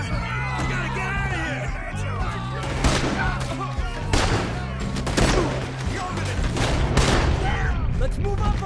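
Dense gunfire in a Red Dead Redemption 2 shootout, with rapid overlapping shots and booming reports running continuously over shouting voices and background commotion.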